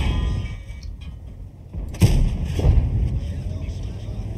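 Tank cannon fire in World of Tanks, a heavy boom with a sharp onset partway through over engine and battle rumble, followed by rattling mechanical clatter.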